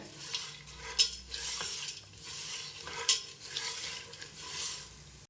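Puffed rice snack mixture with turmeric being roasted in a pan: a close, scraping stir with a light sizzle, repeated in sweeps, with occasional sharp clinks of the utensil against the pan and no talking.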